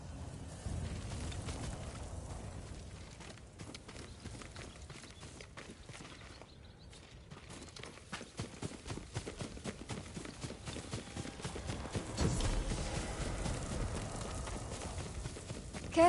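Steady clip-clop of horse hooves trotting over ground in Ghost of Tsushima, mixed with low rumbling ambience and game-like background sound throughout.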